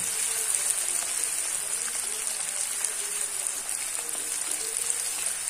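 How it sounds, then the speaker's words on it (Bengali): Chopped onion and spices fry in a pan for mutton nihari paya, giving a steady close crackling hiss with small pops throughout and no talking. "এবার সব মশলাগুলো আমি ভালোভাবে মিক্সড করে ভেজে নেব"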